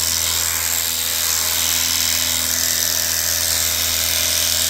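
A powered sprayer runs steadily up close, pre-spraying an oxygenated citrus carpet-cleaning solution through an adjustable 40-degree tip, giving a continuous loud hiss over a low motor hum with no pauses.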